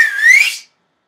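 One sharp two-finger whistle, loud and close, rising slightly in pitch for about half a second before cutting off into silence.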